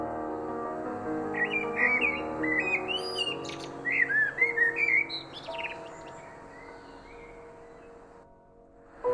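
Blackbird singing, a series of clear fluting whistled phrases with quick chirps and trills, fairly close, followed by a quieter tail of background tones.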